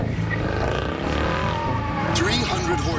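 Mercedes-Benz C63 AMG sedan with a 451-horsepower engine, a steady loud engine drone with rising revs and a brief tire-like squeal near the end, running under an announcer's voice.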